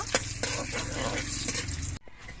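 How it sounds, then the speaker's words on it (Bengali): Whole cardamom, cinnamon, cloves, cumin and dried red chillies fry in hot oil in a pan, a steady close sizzle with light stirring scrapes that cuts off abruptly near the end. "এবার এই সব মশলাগুলো ভেজে নেব"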